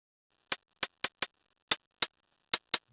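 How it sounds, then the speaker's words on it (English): Eight crisp, bright hi-hat hits in a loose, slightly uneven rhythm, each short and snappy with silence between, close and clean. "so we got this hi-hat sample"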